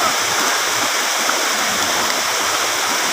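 Water pouring from the main water source of a stream down toward a deep bathing pool, a steady dense rushing hiss with no breaks, close and fairly loud.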